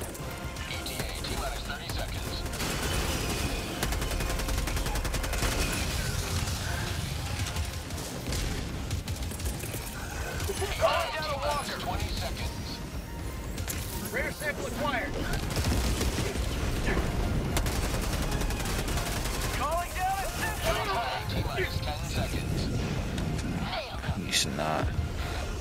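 Turret gunfire in Helldivers 2, bursts of shots and booms mixed into a dense battle din under frequent excited talking from players.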